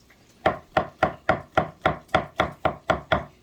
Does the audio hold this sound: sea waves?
no